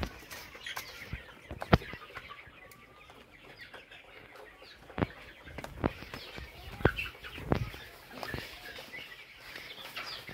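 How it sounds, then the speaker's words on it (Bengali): Chickens at a village poultry farm in Khagrachari, Chattogram, cluck and squawk in a loose chorus, with scattered sharp calls and rustling or wing flaps, moderately close amid steady farmyard background. "এগুলো কিন্তু একটা মুরগির ফার্ম।"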